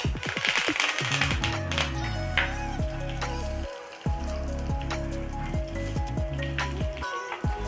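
Curry leaves dropped into hot oil already holding garlic and cumin, giving a continuous close crackle and spatter with occasional utensil knocks, carrying on steadily without talk.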